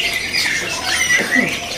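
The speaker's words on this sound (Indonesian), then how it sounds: "Di kios ini juga ini burung kenari" Loud, harsh canary squawks and chirps ring out close by at a bird market kiosk amid the steady hubbub of many caged birds.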